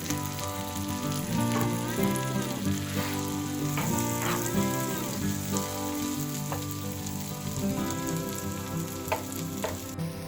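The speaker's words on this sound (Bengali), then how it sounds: "আমাদের পেঁয়াজ আর রসুন অলমোস্ট সতে হয়ে গেছে।" Onion and garlic sauté in a hot pan for a shrimp dish, giving a steady close sizzle and frying crackle with occasional stirring scrapes and soft clinks throughout.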